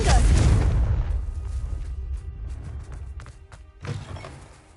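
Confringo blasting spell in Hogwarts Legacy, one loud close explosion at the start that decays into rumble, then a quieter thump near the end.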